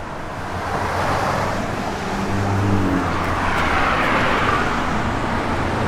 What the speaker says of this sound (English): sounding dual exhaust system on the car. It's got TTI exhaust with Dynomax mufflers, H-pipe system.